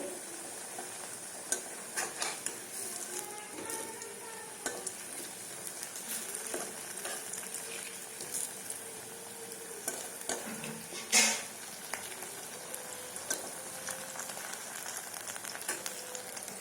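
Pumpkin pieces fry in a pan of mustard oil mixed with refined oil, giving a steady close sizzle throughout with occasional clicks and scrapes of the pieces being turned.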